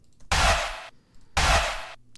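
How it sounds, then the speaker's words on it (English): A chant sound from a virtual beat, two short bursts of breathy, noisy vocal-like sound with a low thump at each onset, separated by a brief gap. "Then after that, it's this like chant sound."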